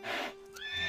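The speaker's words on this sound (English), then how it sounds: "I can't believe Zoe's here, on a different horse, right in front of Pepper" A cartoon horse whinnies in a short burst, loud and close, with a steady tonal hum behind it and a brief rising squeal near the end.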